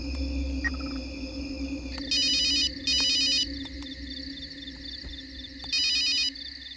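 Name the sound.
phone ringing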